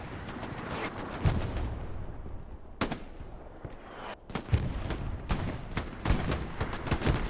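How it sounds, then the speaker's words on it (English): Grease gun and other gunfire in the Hell Let Loose battle at Utah Beach: scattered sharp shots and short automatic bursts, some near and loud and others more distant, spread irregularly across the whole stretch with no voices. "Bips takes down one, but he's only got the grease gun."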